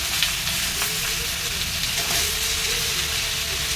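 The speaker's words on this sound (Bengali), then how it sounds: "তারপরে কুমড়োটা ছেড়ে দেব তেলের মধ্যে" Pumpkin pieces fry in hot oil in a pan, giving a loud, close, continuous sizzle that crackles steadily throughout with no speech.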